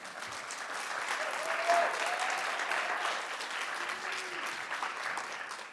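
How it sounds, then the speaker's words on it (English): Warm, steady applause from the audience at an MLK celebration, many hands clapping evenly at moderate distance for several seconds, with a brief swell partway through. "Can we all take a moment to applaud and thank Dr. Minion?"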